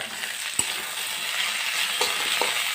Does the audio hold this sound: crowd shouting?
no